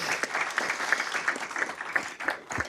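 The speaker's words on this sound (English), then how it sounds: "Let's clap for Crystal and Justin." Steady applause from an audience at a city council meeting, continuous hand clapping with a few sharper individual claps standing out, moderately close and no voices over it.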